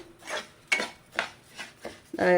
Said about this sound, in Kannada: ಈಗ ಫಸ್ಟು ರವೆ ಎಲ್ಲ ಹುರ್ಕೊಂಬಿಡೋಣ